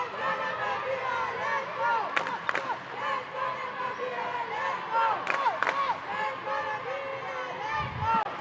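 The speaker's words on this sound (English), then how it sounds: "Great crowd here at the MTC Dome, really trying to get behind their team and raise the roof." A crowd cheers and shouts inside the MTC Dome during a women's Namibia vs South Africa match, a continuous roar of voices with sharp bangs and thumps scattered through.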